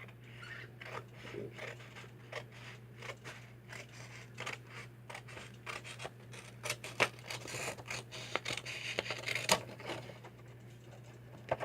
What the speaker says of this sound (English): I thought that I would cut out a little bookmarker here.